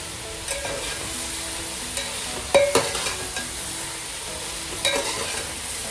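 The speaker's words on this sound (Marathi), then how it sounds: "मध्ये शिमला मिरची टाकून परतून घेऊया" Bell pepper stir-fried in a pan for homemade fried rice, with a constant close sizzle and a few brief scraping stirs of the spatula at intervals.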